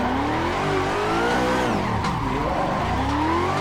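A Mazda Miata engine revs hard while drifting in the racing game Assetto Corsa, its pitch rising and dipping with shifts as the tires squeal continuously, loud and close.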